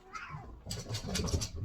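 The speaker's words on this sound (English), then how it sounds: "Pardon the noise, the kittens are playing." Kittens at play let out a high rising meow, followed by scuffling and tumbling noises, close and fairly quiet, in a short burst.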